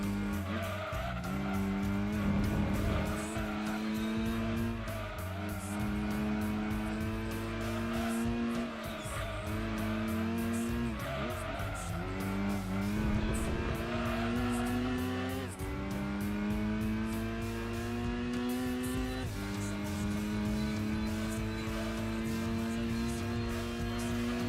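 Race cars in a Gran Turismo 2 race on the Seattle circuit, including a Dodge Neon, with engines droning and rising in pitch through repeated gear shifts and occasional tire squeal, continuous and loud.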